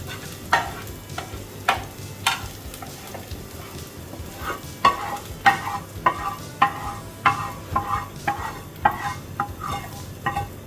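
Beef curry with jackfruit seeds is stirred in a pan, with repeated scraping strokes from the spoon over a steady, close frying sizzle.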